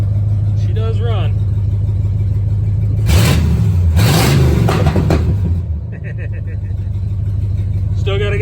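Engine of a 1970 Ford Maverick fitted with a 352 FE V8 and no exhaust installed, running with a steady loud idle rumble, swelling into a couple of rev bursts midway before settling back to idle.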